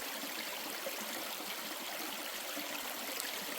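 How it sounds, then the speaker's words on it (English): A creek along the Pinhoti Trail runs over rocks in a steady, broad rush of flowing water, close and constant throughout with no voices. "this is the creek"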